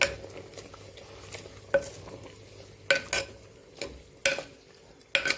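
Spinach being stirred into a simmering keerai kulambu, a Tamil greens curry, with a spoon scraping and clinking against the pot in scattered strokes under a faint background sizzle, close and moderately loud, no voices.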